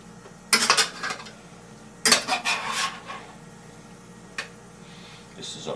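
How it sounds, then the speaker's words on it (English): A spatula scrapes and stirs shaved steak in butter in a pan. Two loud bursts of metal scraping are followed by softer stirring and a single click, with quiet gaps between. "Now I'm going to stir it up with a spatula, flip it around so that way it gets butter all over it."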